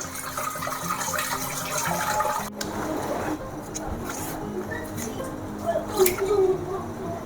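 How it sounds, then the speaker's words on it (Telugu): Cold water poured from a tap over boiled egg noodles in a home kitchen, a steady splashing stream that cuts off abruptly, followed by quieter dripping and faint handling noises. "ఇప్పుడు ఇందులోకే కొంచెం చల్లటి నీళ్ళు పోసేయాలి"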